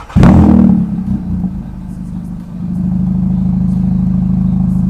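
A car engine with a silencer-delete exhaust starts with a sharp, loud bark, then settles into a steady, deep, throbbing idle rumble that stays close and unchanging.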